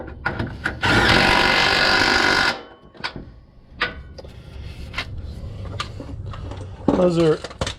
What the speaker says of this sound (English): my electric impact, so that'll save quite a bit of time wrenching as well